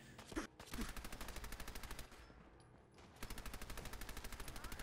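Rapid automatic gunfire from a weapon in Fallout 4, two long bursts of evenly spaced shots, loud and close, separated by a brief lull with a couple of louder single hits at the start.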